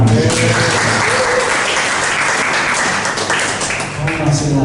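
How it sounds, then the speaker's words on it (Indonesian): Church congregation applauding during a sermon, loud, continuous clapping from many people filling the space, with voices mixed in underneath. "Yang setuju tepuk tangan buat Tuhan."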